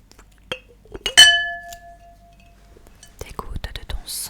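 Delicate glass clinks ring out in a quiet room as a witch's potion is mixed in glassware, a couple of soft taps then one bright sustained chime, followed by close whispering.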